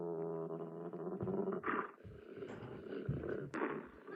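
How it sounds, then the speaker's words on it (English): A dog growls low and rumbling, close and alone, the steady throaty growl breaking into sharper snarling bursts toward the end. "suddenly I hear a dog growling behind me"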